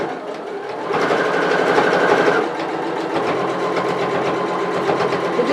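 A sewing machine stitching an apron runs steadily with a fast mechanical rattle, pausing briefly in speed before stitching on, close and loud.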